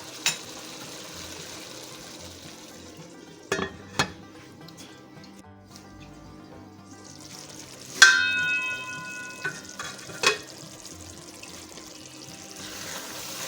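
Tinda and potato sabzi fries in spices in a pan, a faint sizzle broken by sharp utensil clanks and scrapes, one leaving a brief metallic ring, with no talking.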